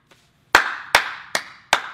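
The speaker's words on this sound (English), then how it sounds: "They're clapping down there." Four sharp, separate claps ring out at an even, slow pace with a short reverberant tail after each, preceded by a faint tap, heard alone without talk.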